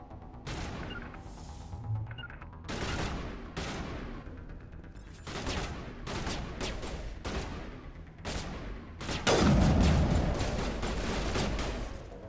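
Gunfire in the video game Mass Effect, several loud bursts of rapid shots broken by short pauses, with a heavier, denser volley near the end.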